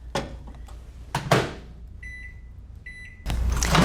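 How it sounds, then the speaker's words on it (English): A door thumps shut, a microwave oven beeps twice in short tone bursts, then its motor starts with a loud, steady hum while heating a jar of sugaring wax. "So you're going to put it in the microwave."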